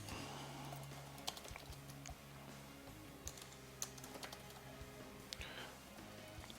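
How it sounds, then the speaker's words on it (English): Keys clatter on a computer keyboard in a steady run of quick, light taps and occasional louder strikes, heard close against a low background hum. "type this out"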